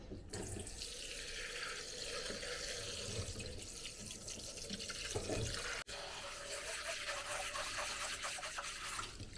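Rice is rinsed under a running tap, with steady splashing water close by and a brief sharp knock partway through.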